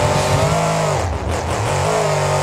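The Bigfoot monster truck at a Monster Jam freestyle championship, its engine roaring loudly with a sustained growl that dips briefly midway and then climbs again, heard up close over arena noise with no talking.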